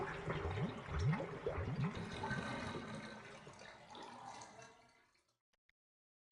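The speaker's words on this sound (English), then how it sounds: "Jill always has to pull the plug if she sees a tub full of water" A tub of dirty water drains in the Resident Evil Remake video game, with gurgling, sloshing pulls of water that gradually thin out and stop, leaving near silence at the end.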